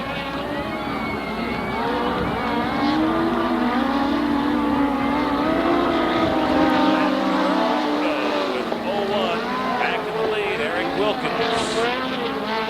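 USAC midget race cars roar around a dirt oval at Raven Raceway, engines rising and falling in pitch as they circle, with a commentator talking over the continuous racing noise.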